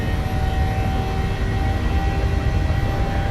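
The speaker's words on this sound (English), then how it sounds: "Takeoff power set." Airliner jet engines spooling up to takeoff power in Microsoft Flight Simulator, a loud steady roar with a sustained whine, continuous and without talk.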